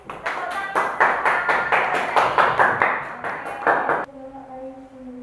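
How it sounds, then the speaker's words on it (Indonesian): Hands clap in a quick, steady rhythm of about a dozen sharp claps in a classroom, stopping abruptly, followed by a faint ringing tone. "clap your hands please"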